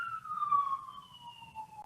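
An ambulance siren wails steadily at middling distance, its tone sliding gradually lower as it passes, heard alone over a faint background rumble.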